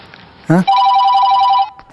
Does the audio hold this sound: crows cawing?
no